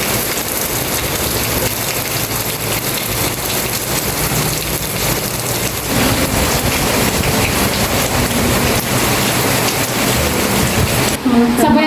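Heavy rain pours without pause during a storm declared a state of calamity, a dense loud hiss of drops pounding surfaces with low rumbling underneath, voices faintly audible in the background.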